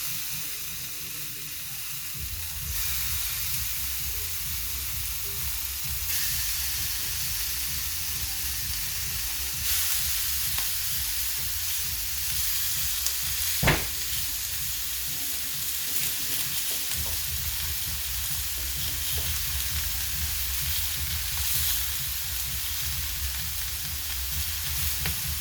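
Beef sizzles steadily in a very hot pan for a roast beef dish, a continuous loud frying hiss with brief crackles and stirring, no talk.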